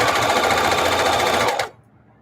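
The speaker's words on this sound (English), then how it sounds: "But this is just a flip and sew." Casserole pads being flip-and-sew stitched on a sewing machine: a steady, loud rapid whir of stitching that runs for about a second and a half, then stops abruptly into quiet.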